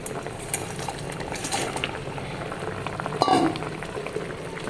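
Sour fish curry with pumpkin bubbling in a pot, a soft continuous simmer with small metallic clinks of a utensil and one sharper knock of metal partway through, no talking.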